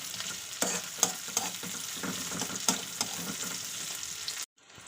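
Spice masala with chopped ginger and whole cumin sautéed in a pan, giving a steady close sizzle with a few sharp scrapes of the spatula, then a sudden cut to silence near the end.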